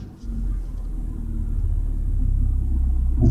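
Cars passing near a roundabout by a gas station, a low continuous engine rumble that swells as a vehicle draws close, heard from inside a car.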